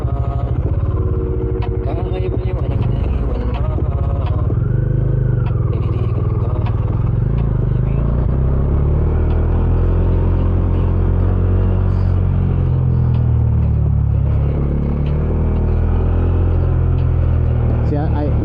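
A Bajaj Dominar 400 UG2 BS6 motorcycle with its stock exhaust is ridden on a rough road in Bohol. A steady low engine rumble carries throughout, with some wind and road clatter and occasional light chugging at low speed.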